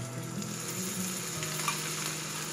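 Garlic and ginger sizzle steadily in a hot pan for chickpea bhuna, a close, continuous frying hiss with light stirring and no talk.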